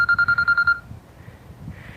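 A phone rings with a rapid electronic trill, several loud pulses over the first part, then stops, leaving faint room noise during a cactus transplanting session.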